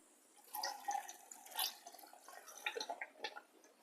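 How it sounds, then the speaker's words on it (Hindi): A cup of water is poured into a jar while mixed fruit juice is being made, giving soft, faint splashes and drips in a quiet room. "जूस बनाने के लिए 1 कप पानी ऐड करते हैं।"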